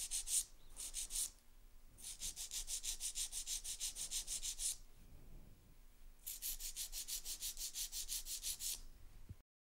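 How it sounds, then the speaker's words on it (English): Rhythmic rasping of a nail file on a sculpted acrylic-gel hybrid nail, with quick close back-and-forth strokes in two long bursts separated by a short pause. "My second step in filing, I'm going to file straight out from the nail groove on the right"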